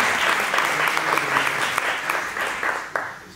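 Audience applause at a round-table session of a school conference on the writer Enric Valor, a crowd clapping steadily and fairly loudly, with a few sharper individual claps standing out near the end.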